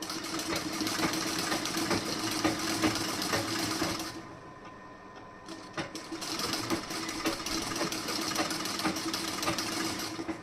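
Sewing machine stitching a sleeve of a garment, a close, fast mechanical whir and clatter that runs steadily, pauses briefly in the middle and then resumes.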